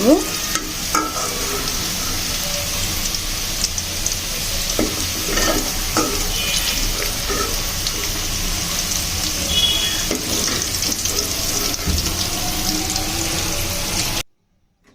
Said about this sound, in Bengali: আমি আলুগুলোর মধ্যে একটু হলুদ দিয়ে সুন্দর করে ভেজে নিচ্ছি